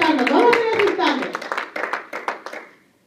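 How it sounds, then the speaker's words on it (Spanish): A church congregation bursts into applause for the Lord, dense clapping from many hands that thins into scattered claps and fades out, with a voice over the start. "Denle un aplauso al Señor"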